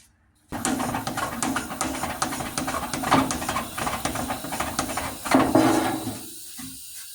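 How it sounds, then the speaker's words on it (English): Air pumped into a tractor engine cylinder during a compression test hisses out through a blown head gasket, a steady close rushing hiss that swells in pulses for several seconds before fading. "Let me try to pump some more air in there"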